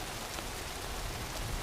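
Steady rain patters softly and evenly at a wilderness trailhead, a faint diffuse hiss with no voices over it.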